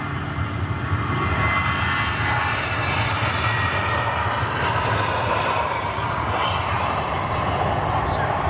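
A big jet airliner departs in a steady, loud, broadband engine roar that holds throughout at close-to-mid range, with faint voices in the background.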